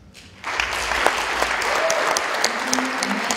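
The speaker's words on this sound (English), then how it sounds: "je pense qu'on peut remercier Sylvie et applaudir chaleureusement" Audience at a film presentation and Q&A applauding warmly, a quiet start giving way to a sudden burst of sustained crowd clapping that stays full and steady, with a few faint voices mixed in.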